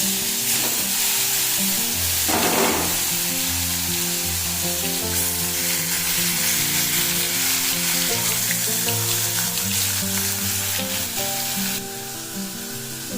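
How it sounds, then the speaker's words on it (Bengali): Fish sliding into hot oil in a home kitchen pan, sizzling and crackling steadily and loudly throughout, with a tonal music bed playing underneath and a brief louder spitting burst early on. "তেলটা কিন্তু গরম হয়ে গেছে মাছগুলো দিয়ে দিলাম"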